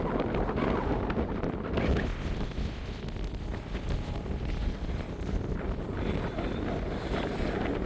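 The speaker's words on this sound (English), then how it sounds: "we'll get out of the wind a little bit" Strong, steady wind roars across an open Cairngorms hillside on Beinn a' Bhùird, buffeting the microphone with constant low rumble and gusts throughout, without any talk.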